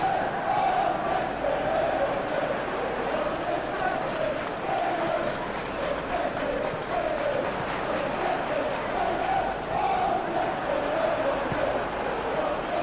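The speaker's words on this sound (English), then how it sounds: "Crowd appreciates good football all round there." A stadium crowd in a PES 21 football video game, staging a Champions League final between Manchester City and Inter Milan, keeps up a steady, loud roar with rising cheers and chanting throughout.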